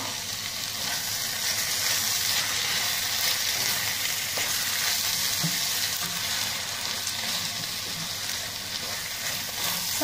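Kofta and vegetables fry in a pan with a continuous, dense sizzle that holds steady and close throughout, with faint stirring touches.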